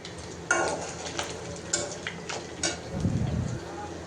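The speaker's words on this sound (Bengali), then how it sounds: "এখন মাংসটা ভেজে নিচ্ছে।" Minced meat frying in a pan for noodles sizzles softly as a spoon scrapes and clinks against the metal in irregular strokes, with a brief louder rustle near the end.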